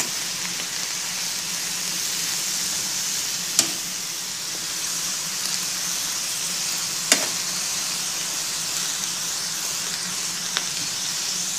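Shredded collard greens (couve) sautéing in a pan, a constant dense sizzling hiss with a few sharp utensil taps now and then.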